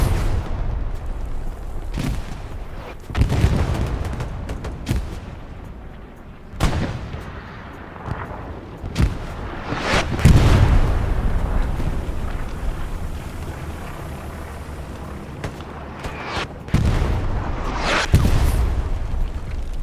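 Gunfire and artillery in the video game Hell Let Loose, with repeated loud bursts and booming blasts, some close and some distant, over a constant battlefield rumble, with no talk.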